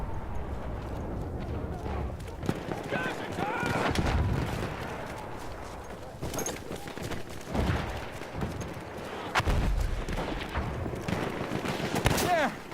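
Machine gun fire in the Battlefield 1 multiplayer video game, with repeated bursts of rattling gunfire and distant explosions layered over continuous battlefield noise, with a voice speaking over parts of it.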